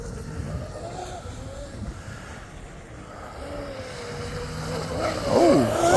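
A Pro Boat Veles 29 RC boat with a modified hull runs on water near trees, its thin electric motor whine rising and falling as it turns, under steady wind noise, growing louder near the end.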